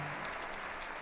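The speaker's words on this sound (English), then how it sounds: "Another round of applause." Applause from a gala concert audience, a brief continuous burst of dense hall clapping, fairly quiet and even throughout.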